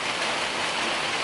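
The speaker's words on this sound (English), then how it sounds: "I would say it's raining, but not heavy, middle." Moderate rain falls outdoors, a continuous dense hiss of drops on surfaces, steady and close throughout with no voices.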